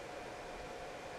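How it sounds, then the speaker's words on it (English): Steady, dense whirring hiss from the internal cooling fan of a Blackmagic Cinema Camera, picked up by its built-in microphone, with an even, unbroken level and no voices. "what you're hearing is the fan from the camera itself"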